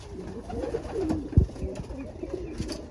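Racing pigeons coo softly in a loft after a race, a few low throaty calls close by over a faint background murmur.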